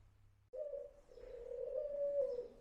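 Doves cooing at a motorcycle museum, one soft sustained coo starting abruptly and holding steady for about two seconds, faint and alone without talk.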